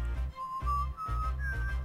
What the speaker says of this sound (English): I'm not very good at whistling either